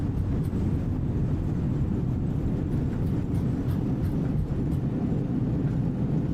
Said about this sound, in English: Alright, reversers are out. Nose down gently.